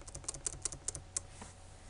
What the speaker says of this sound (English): So let me backspace over this.